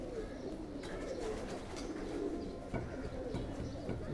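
A surkha pigeon of Ferozpuri and Faqeergull mixed breed coos in soft, low repeated phrases nearby, alone against a faint steady background.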